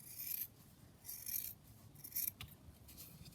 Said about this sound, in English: just trim that down